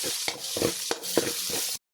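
Onion and garlic sizzle in a pan while being stir-fried, crackling steadily, with a few sharp scraping stirs at intervals. The sound is close and fairly quiet, and nobody speaks.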